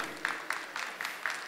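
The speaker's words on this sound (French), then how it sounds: "oui, vous pouvez applaudir." Faint applause from a gala dinner audience, soft rhythmic clapping heard at a distance with no voices over it.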